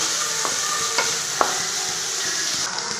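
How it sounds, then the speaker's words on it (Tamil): Vegetables and tomato sautéing in a pan for semiya kichadi, with a steady loud sizzle and a few sharp spoon scrapes and clinks against the pan, no voices. "இந்த காயெல்லாம் சேர்த்து வதக்கலாங்க நல்லா இதுவும் நல்லா வதங்கட்டுங்க"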